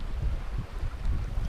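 Wind gusts over a lake at night while fishing on Don Pedro, a low buffeting rumble that rises and falls in quick pulses, close and fairly loud, with no talk.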